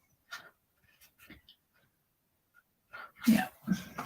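A close human sneeze bursts out near the end after soft breathy sounds and faint murmurs, fairly quiet overall.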